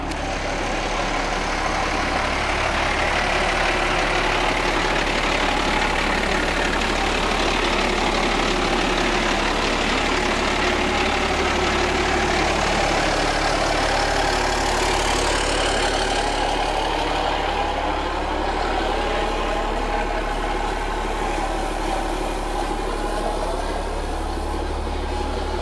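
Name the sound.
truck engine idling while warming up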